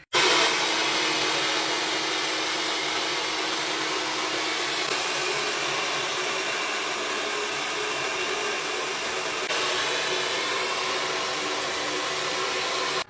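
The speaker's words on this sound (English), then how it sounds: "Rough dried all my hair" A hair dryer rough drying freshly washed hair, a loud steady blowing whoosh that runs without a break, with slight shifts in tone as it moves.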